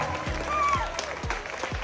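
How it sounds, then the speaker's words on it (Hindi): Audience applause at a 2024 village award ceremony, greeting a hockey-playing village head as she arrives. Moderate, steady clapping runs throughout, with low rhythmic thumps recurring about every half second and a few faint tonal whistles. "जोरदार तालियों के साथ"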